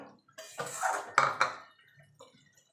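Pieces of boal fish are stirred into a mustard masala in a pan. A short burst of metal clinks and wet scraping spatula strokes rises and fades, with quiet gaps before and after.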